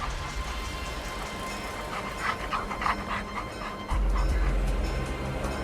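Dogs panting and whimpering in an audio drama, circling severed body parts that give off a stench, heard as a continuous close layer of breathy panting with faint yips, with a low rumble rising near the end.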